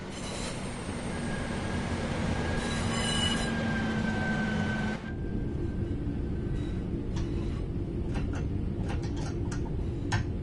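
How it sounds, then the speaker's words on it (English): Train braking to a stop in the Train Sim World 5 simulator, with steady rumbling rail noise and a thin wheel squeal through the first half, easing to quieter running with scattered clicks and ticks afterward. "it's time to bring the train to a stop."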